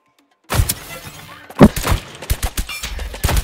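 Gunfire in the shooter game Deceive Inc., a close, loud burst of shots and thuds in an irregular volley after a brief silence, with impacts continuing through the clip.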